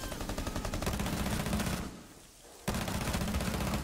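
Rapid automatic gunfire in the tactical shooter Rainbow Six Siege, loud and sustained bursts that break off for a moment of near quiet, then resume at full intensity.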